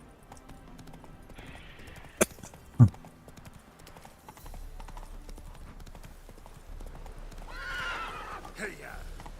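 A horse in The Witcher 3 game clops along in steady hoofbeats and lets out a neigh, with a rider's voice calling out over it and a couple of sharp knocks early on.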